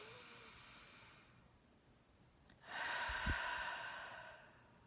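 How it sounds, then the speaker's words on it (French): A big, deep breath drawn in slowly and let out with a soft, airy rush, close and quiet, with a brief pause between the inhale and the stronger exhale. "Une grande respiration."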